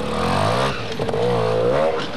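A trial motorcycle at a 1989 competition in Saint Pantaleon, France, revs loud and close in a steady, wavering engine drone that rises and falls in pitch, with no voices over it.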